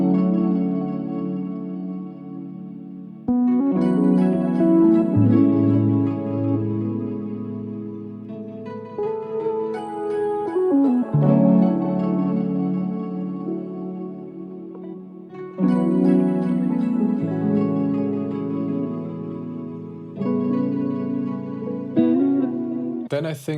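An R&B beat pitched down three semitones: layered warm chords and melodic parts in repeating sections with steady rhythm, full and moderately loud throughout with no talking.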